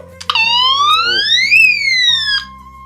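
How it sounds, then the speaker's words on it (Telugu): An electronic personal safety alarm siren, triggered by a pull switch, wails, its pitch sweeping upward then dropping back down in one loud, continuous cycle, ending on a steady lower tone. "ఈ సైరన్ అయితే అందరికి వినిపించి"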